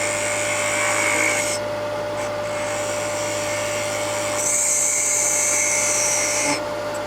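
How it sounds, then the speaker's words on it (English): A Nano Revolution hollowing tool shear-cuts wood on a lathe, giving a steady high whirring whine over a constant motor hum, with the cutting noise easing off in the middle before it returns strongly. "I turn it on the side and introduce it as a shear cut. You can see it shearing the wood."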